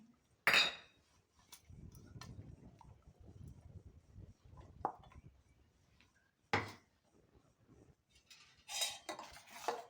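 A mixer jar being rinsed with buttermilk and poured into a steel vessel in a home kitchen, with sharp clinks of metal at the start and later, scattered splashes and a faint trickling pour between them.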